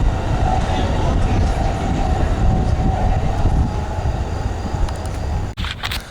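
Train passing close by with a baggage car, a loud steady rumble and rattle of rolling wheels that fades near the end.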